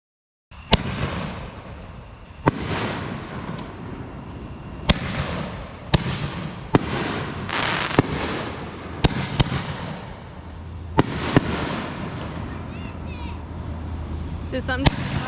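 Raccoon Sawed Off firework shells going off in a series of about ten sharp, loud bursts at irregular intervals, each followed by crackling decay and a lingering hiss, with a low rumble late on.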